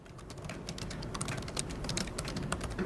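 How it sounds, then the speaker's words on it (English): Rapid, steady typing on a computer keyboard while entering a command to open an SSH tunnel, the key clicks close and dense throughout the short stretch with no talk. "Which I'm gonna type wrong."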